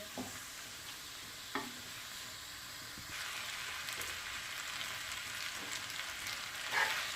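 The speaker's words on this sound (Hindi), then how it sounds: "और हल्की आंच पर 2 मिनट पकाते हैं।" Chicken chow mein cooking on low heat in a pan, a faint continuous sizzle with occasional soft stirring scrapes, close and without talk.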